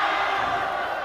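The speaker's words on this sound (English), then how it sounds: "Crowd is enjoying this point" A crowd at a high school volleyball quarterfinal cheers in a steady, loud roar of many voices in an indoor gym, sustained for the whole moment without individual words standing out.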